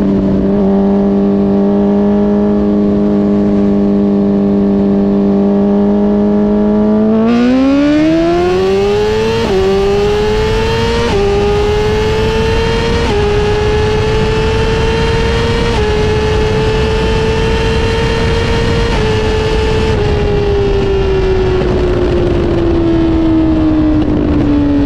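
A BMW S1000RR and a Suzuki GSX-R1000R superbike run at full throttle, a loud steady high-pitched engine whine climbing through the gears in distinct upshifts, holding high revs, then easing off near the end.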